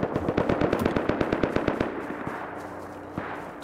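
AK rifle fire in the video game Rust, a rapid automatic burst of sharp cracks in a steady rhythm that tapers into a few scattered shots, followed by a lone distant report.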